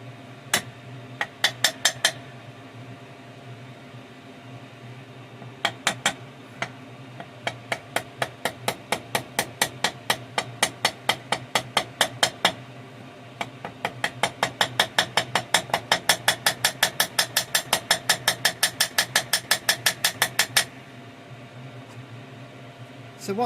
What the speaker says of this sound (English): I've started off with the flat side of the hammer to start to deform it